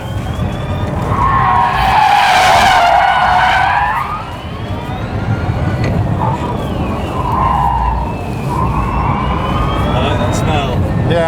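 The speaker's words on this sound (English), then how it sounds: "if I turn the traction control a bit more off to push the torque vectoring into drift mode, we can also do a bit of this" Tyres of a Rimac Concept_One electric hypercar squeal loudly while drifting on a track, with long wavering screeches that rise, dip and return and no engine roar underneath.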